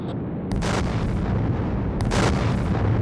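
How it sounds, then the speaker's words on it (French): Two deep, heavy booms about a second and a half apart over a constant low rumble, like explosive bursts, as a spacecraft fuel tank is ejected in an audio drama. "Ce n'était que le réservoir de carburant, il vient d'être éjecté."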